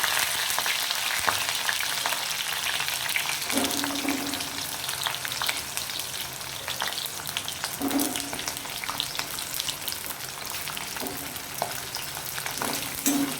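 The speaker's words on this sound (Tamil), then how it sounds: "கருவேப்பிலை, வெங்காயம் இதெல்லாம் எண்ணெயில் போட்டு நல்லா வதக்கணும்." Small onions and curry leaves fry in oil for tamarind kuzhambu, a continuous dense sizzle close by, broken by occasional scrapes of a spoon stirring the pan, with no one talking.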